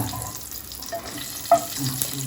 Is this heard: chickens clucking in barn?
no